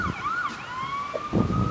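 An ambulance siren wails in traffic, a close, clear rising and falling tone that sweeps up and down continuously with faint road noise beneath.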